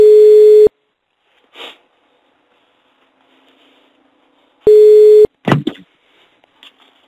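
A telephone busy tone on an unanswered call plays as two short, loud steady beeps about four seconds apart, with faint handling noises between them and a brief rustle after the second.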